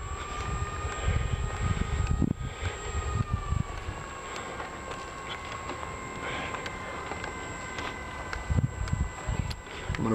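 B-25 bomber taxiing back to the ramp, piston engines giving a steady, moderately distant drone with sustained tonal hum, steady throughout alongside gusty wind buffeting.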